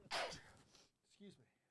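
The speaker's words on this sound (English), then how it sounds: "A little sneeze." A single quick sneeze bursts out at the start, followed by a soft breathy sound, quiet and close.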